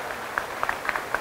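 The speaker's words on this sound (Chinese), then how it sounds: "一个掌声，谢谢他们" Scattered handclaps ring out at a disability care centre's building opening ceremony, brief and moderately loud, in a short burst of uneven applause.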